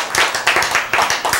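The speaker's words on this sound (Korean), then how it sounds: "오, 박수" A short burst of hand clapping from a group during a sermon-style lecture, a handful of quick uneven claps rising and falling close by.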